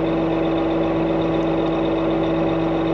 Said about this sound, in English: You wanna keep riding in the tractor?